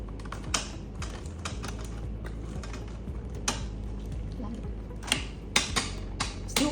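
Onlense K38 smart lock on a door, its motor mechanism whirring and clicking through the locking cycle, with sharp clicks and taps scattered over a steady low hum, close and moderately quiet.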